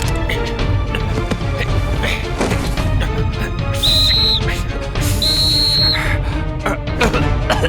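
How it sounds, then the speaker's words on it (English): Two short, shrill whistle blasts, each under a second, sound in a busy cartoon scene about earthquake rescue, standing out over steady background music and effects. "That's it! The whistle!"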